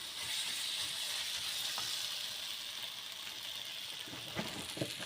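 Cauliflower and peas tip into hot spiced oil with a steady, bright sizzle throughout, a couple of soft knocks from the pan near the end and no voices.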